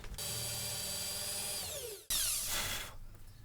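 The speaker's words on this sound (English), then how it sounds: "I'm going to drill a hole on one side for our tape holder" A power drill bores a hole through a wooden tape-dispenser side, whining steadily at close range, briefly stopping, then surging again with the motor labouring through the wood before tailing off.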